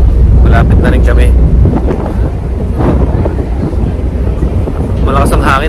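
Strong, cold wind on a ship's viewing deck near Vancouver Island buffets the microphone in a steady, loud roar, with low rumbling gusts throughout and brief bits of voice near the start and end.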